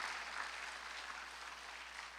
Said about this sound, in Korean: 박수를 치며 하나님께 영광을 드렸습니다